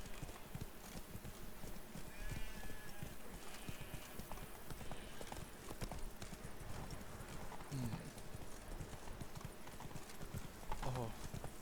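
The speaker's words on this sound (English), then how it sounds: "Run, Roach." A horse gallops through Toussaint in The Witcher 3: Blood and Wine. Rapid, steady clip-clop hoofbeats run throughout with a brief snort or whinny, while characters talk over the galloping.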